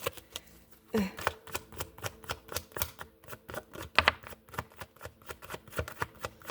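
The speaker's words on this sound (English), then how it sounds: "One more shuffle." A deck of oracle cards being shuffled by hand, with quick, crisp riffling flicks and taps repeating in a steady rhythm at close range for several seconds.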